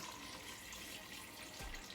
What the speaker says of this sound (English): I'm just going to add some water to this